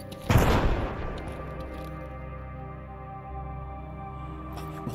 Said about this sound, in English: Random explosions going off behind me. I don't think it was a grenade, because it was like a fiery explosion.